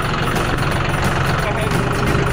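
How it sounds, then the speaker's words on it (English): A new farm tractor's engine runs steadily and loud, a constant low rumble that fills the whole stretch, with some speech faintly mixed in. "We're going to run the tractor for a little bit."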